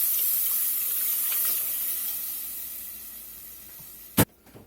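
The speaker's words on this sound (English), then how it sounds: "We're going to pour 2 cups of milk in." Two cups of milk poured into a pan on the stove for bacon potatoes au gratin, a steady hissy wash of liquid that slowly tapers off, then a single sharp clack near the end.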